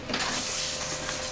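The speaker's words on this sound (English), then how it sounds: "Wish my printer wasn't going on right now." Printer running steadily in the background, a continuous mechanical whir and hiss that stays at a constant level for the whole stretch with no talk over it.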